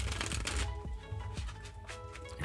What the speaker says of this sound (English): Your final shuffle, final cut.